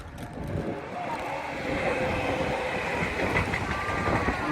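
A train rumbles past close by, steady and loud with a rhythmic clatter of wheels on rails throughout.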